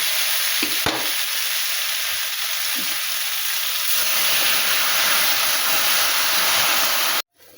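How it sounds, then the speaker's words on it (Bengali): A loud, steady sizzle and hiss of radish and cauliflower frying with spices in a pan, swelling as water hits the hot surface, with a few utensil knocks early on. "এবারে আমি এর মধ্যে জল দেব"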